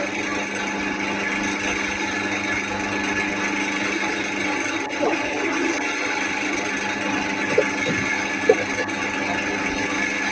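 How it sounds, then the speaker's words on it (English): Woodturning lathes run in a workshop during an online class, giving a steady, loud mechanical hum and whir that holds throughout, with a few faint knocks and scrapes over it. "you can switch the lathes off for a minute now"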